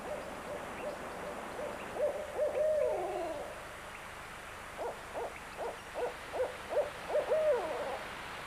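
A barred owl hoots in the wild, first a short run of warbling calls, then after a pause a longer rhythmic series of about eight clear hoots, moderately near and alone without talk.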